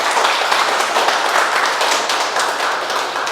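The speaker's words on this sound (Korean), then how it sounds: "고생길인데 박수를 쳐주셔서 감사합니다." Dense, continuous clapping from a crowd, steady and moderately loud throughout with no voices standing out.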